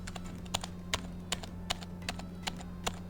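Sharp, evenly spaced key clacks from a Happy Hacking Keyboard Professional mechanical keyboard, about one every half second, over a steady low hum.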